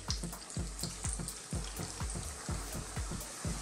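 Jamaican fried dumplings cooking in about a centimetre of oil, a soft steady bubbling sizzle with regular low thumps and knocks at roughly half-second intervals, close but quiet, no speech.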